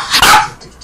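Dog giving a single sharp, loud bark close to the microphone indoors, quick and bright, then fading.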